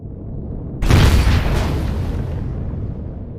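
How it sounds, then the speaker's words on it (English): A heavy turret round slamming home in the space survival game Empyrion, a single loud booming impact that rumbles and slowly decays over a few seconds. "those some heavy ass hitting turrets too"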